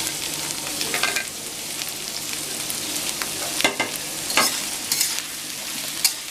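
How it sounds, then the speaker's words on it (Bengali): Onions and green chillies being stirred and fried in a pan for egg chowmein, with a steady close sizzle broken by a few scraping strokes of the spoon, no talk. "সব উপকরণগুলি একসঙ্গে নাড়াচাড়া করে নেব।"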